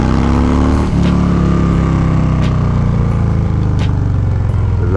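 A 2020 Harley-Davidson Low Rider S rumbles steadily while being ridden, a loud, close, continuous engine drone that shifts pitch slightly as it cruises along.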